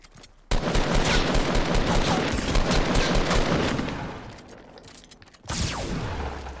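Shotgun fire in a video game: a sudden loud, dense blast with a crackling, rattling tail that fades over several seconds, then another abrupt burst near the end.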